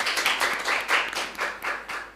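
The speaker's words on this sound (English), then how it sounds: "Let's give them a round of applause." Applause from a seated audience at a ministerial debate event, a brisk burst of many hands clapping close and loud for about two seconds, with no talking over it.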